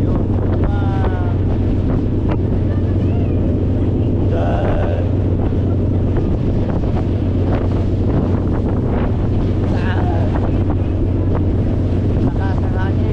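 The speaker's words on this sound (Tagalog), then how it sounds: "Lakas ng hangin." Strong wind buffets the microphone in heavy, constant gusts, with rushing water and waves underneath and a few faint voices in the background.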